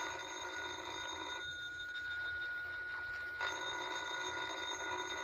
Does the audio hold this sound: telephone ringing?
yes